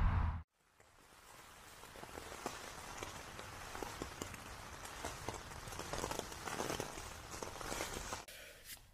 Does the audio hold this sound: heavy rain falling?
yes